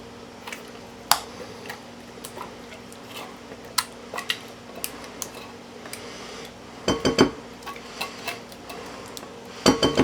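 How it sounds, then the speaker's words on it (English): A spoon clinks and scrapes against a dish while cream of mushroom soup is mixed into a spinach casserole, with irregular light taps and a few louder clattering bursts. "Mix that in just a bit."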